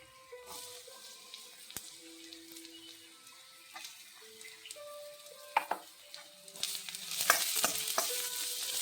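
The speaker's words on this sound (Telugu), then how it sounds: "కలుపుతుంటే ఫ్రై అవుతుంది." Beetroot pieces being stir-fried in a pan: a soft, steady sizzle with scraping and stirring strokes that builds louder toward the end, with no talking.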